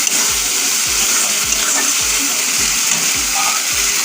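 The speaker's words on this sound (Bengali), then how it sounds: "একটু আমি জল দিয়ে মশলাটাকে এবার ভালো করে কষে নিচ্ছি।" Spice paste with added water sizzles and bubbles loudly in a pan for chicken kosha, with a continuous frying hiss and regular rhythmic scrapes of stirring about twice a second.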